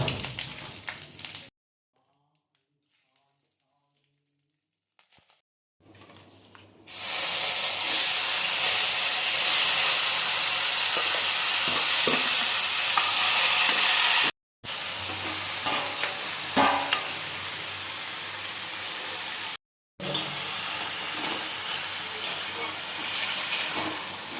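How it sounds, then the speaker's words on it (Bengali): Panch phoron, dried red chillies, bay leaves and taro greens hit hot oil in a kadai with a loud, steady sizzle and hiss after a near-silent start, broken by two brief cuts. "চিংড়ি ভাজার পরে ওই কড়ায় অল্প একটু তেল দিয়ে পাঁচ ফোড়ন শুকনো লঙ্কা আর তেজপাতা দিয়ে কচি সবগুলোকে দিয়ে দিতে হবে"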